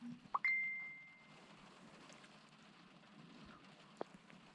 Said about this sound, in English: That was my phone beeping again.